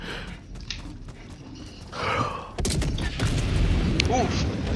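A hell bomb explodes in the video game Helldivers 2 with a heavy booming rumble amid other gunfire and blasts, while players talk over the game audio.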